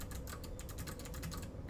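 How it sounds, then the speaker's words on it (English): Rapid typing on a HAVIT HV-KB395L low-profile mechanical RGB keyboard gives a steady run of close, crisp key clicks in quick irregular rhythm, with no one speaking. "So let's go ahead and just type and just to get a feel for it."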